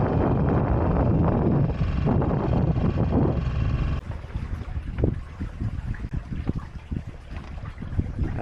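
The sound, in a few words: sailboat sailing across a bay in fair wind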